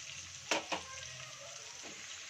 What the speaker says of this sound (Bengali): শাকগুলো দিয়ে আমি ভালো করে একটু নাড়িয়ে চাড়িয়ে নিচ্ছি।